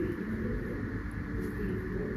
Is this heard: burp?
no